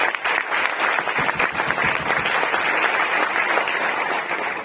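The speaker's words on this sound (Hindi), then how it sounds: "तो एक बार कंपनी के लिए जोरदार तालियां होनी चाहिए" An audience claps steadily at a company event for a health and wellness marketing firm, loud and dense throughout, with no voice over it.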